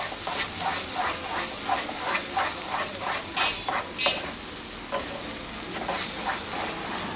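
Taro paste seasoned with salt and turmeric cooks in a pan, a steady sizzle punctuated by rhythmic scraping stirs of a spatula at close range.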